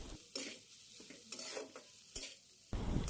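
Fried chicken mince is stirred into scrambled egg in an oiled pan, with several distinct scrapes and knocks of a spatula over a low sizzle and no voices.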